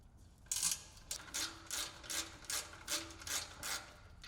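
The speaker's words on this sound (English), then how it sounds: "Then, remove and retain the screw and nut from each upper mount." A hand ratchet clicks in quick, evenly spaced bursts while mounting screws and nuts are removed from a 2024 Polaris Xpedition during a winch kit install, faint and close with no talk.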